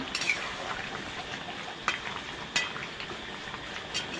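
Chicken curry seasoned with garam masala is stirred in a pan, a soft, quiet sizzle running throughout with a few sharp scrapes or clinks of the utensil against the pan, close up and without voices.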